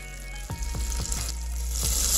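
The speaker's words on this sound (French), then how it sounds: "on fait fondre du beurre et on ajoute une petite demi-oignon" Butter melting with half an onion frying in a pan for risotto primavera: a steady close sizzle broken by a few sharp clinks and stirring knocks, with no talk.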